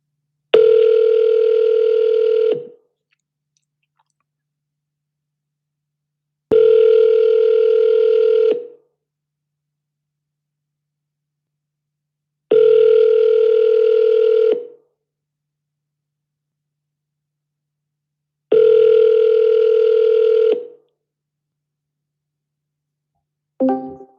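Outgoing call ringback tone: four long, evenly spaced rings of about two seconds each, separated by silence, loud and alone, with a brief different tone cutting in at the very end.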